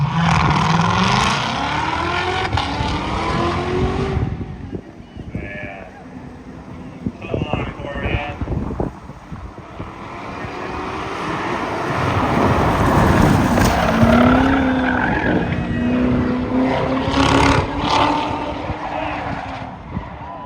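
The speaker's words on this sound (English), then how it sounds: "made it to the finals in the Spectator Drags with the Tesla Plaid, about to race a ZR1" Engines roar from a Tesla Plaid drag racing a Corvette ZR1 in the spectator drags finals, a loud, sustained rush of motor noise with tire squeal and a strong surge midway, over a busy crowd and talk.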